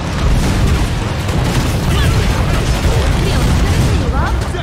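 Explosions in the video game Killing Floor 2, loud booming blasts and bursts, dense and continuous across the short stretch, with no speech over them.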